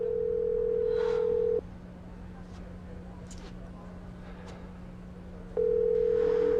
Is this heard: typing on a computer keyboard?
no